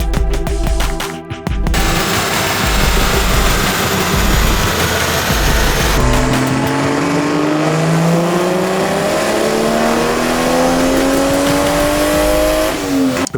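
A Toyota Supra with a six-speed manual and a tuned Pure 800 setup making over 700 wheel horsepower roars loudly on a dyno, its engine note climbing steadily through a long, continuous pull.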